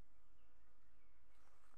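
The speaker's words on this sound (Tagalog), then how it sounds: "Yun, yung pukyutan." Bees swarming at a wild hive high in a tree, a faint, steady buzzing hum with a soft, distant quality and no talk.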